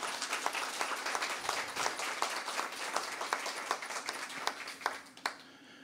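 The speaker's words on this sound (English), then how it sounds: "give our staff a round of applause." An audience claps for staff during a gallery talk at the Booth Western Art Museum, a sustained crackle of many hands with a few sharper, louder claps standing out as it winds down near the end.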